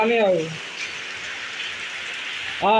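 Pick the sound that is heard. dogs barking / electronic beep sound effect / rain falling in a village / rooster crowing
rain falling in a village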